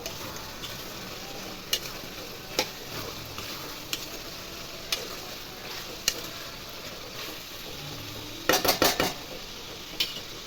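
Curry being stirred in a pan for an Andhra-style masala chicken curry with gravy: a soft steady sizzle underneath, with sharp scattered utensil scrapes and clinks against the pan and a quick burst of clatter near the end.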